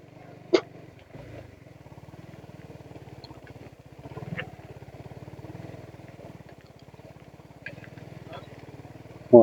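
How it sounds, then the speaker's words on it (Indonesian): A motorbike rumbles steadily along a rough, bumpy rural road near Ciater, a continuous low engine drone with occasional knocks and jolts, and a rider talking over it. "motor gini dibawa asruk-asrukan."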